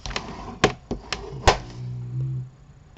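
Card being creased into folds for a homemade gift box, a handful of sharp taps and thunks on a tabletop at irregular intervals, close and moderately loud, followed by a brief low hum.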